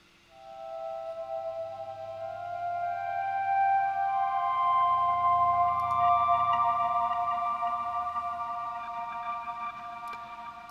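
Sustained, atmospheric guitar tones from the Quartarone Guitar Reveries library swell slowly over soft low orchestral pads, building and fading gently in a dreamy, cinematic wash without any voices.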